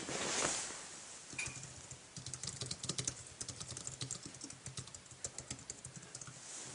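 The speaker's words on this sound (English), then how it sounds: "we're going to start typing." Fingers type on an Apple iPad 2 keyboard dock, a quiet, close run of quick key clicks in an uneven rhythm that starts after a brief pause.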